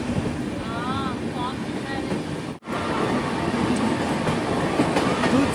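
A passenger train rolls along the rails toward Dudhsagar Waterfall, a steady close rumble with wind noise broken by a brief dropout midway, faint voices in the background.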